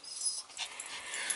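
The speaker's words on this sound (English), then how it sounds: "It's the baby dog." A small young dog breathes in quick, close panting puffs with soft grunting huffs, a steady breathy rhythm lasting about a second and a half with no talk over it.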